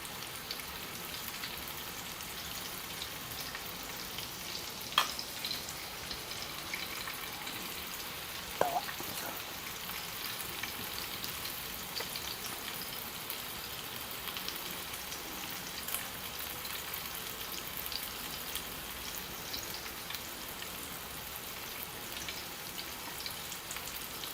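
Kokan-style rava-coated surmai fish frying in oil on a tava, a faint, steady crackling sizzle with a couple of sharper pops, heard alone and quietly throughout.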